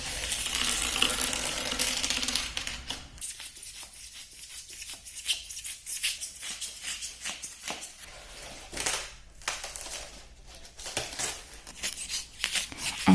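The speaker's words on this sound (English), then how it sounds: "I have a thermocol sheet at home from a packing that I have measured approximately and cutting it down with a kitchen knife." A kitchen knife saws through a thermocol packing sheet, giving rapid scratchy, squeaky strokes that come in uneven bursts, close and fairly loud, with no one speaking.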